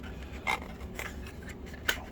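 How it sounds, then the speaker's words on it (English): Scissors snip through a thin 3D printed PLA part for an N scale model railroad building, giving three quiet, crisp cuts spaced apart over a low background hush. "Nice thing about printing this stuff with PLA, we can cut it with scissors."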